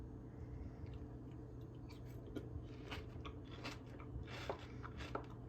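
Bites into crunchy homemade strawberry Dubai chocolate give a faint series of crisp crunches and chewing close to the microphone over a quiet background hum, with no talking.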